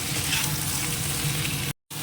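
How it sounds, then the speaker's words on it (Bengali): Sliced ridge gourd and pointed gourd fry in a pan with already-fried potato and onion, giving a steady, close, even sizzle that cuts out briefly near the end before resuming. "এবার পটল এই ঝিঙেটা দিয়ে দিলাম"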